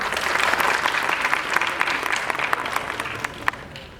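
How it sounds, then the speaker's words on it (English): Audience at the Optimity 2019 workshop applauds, a dense, steady burst of clapping that stays strong and then thins slightly, with sharper individual claps standing out toward the end. "A big round of applause for them"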